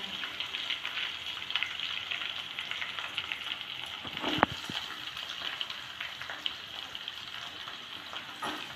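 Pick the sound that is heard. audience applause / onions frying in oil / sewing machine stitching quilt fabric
onions frying in oil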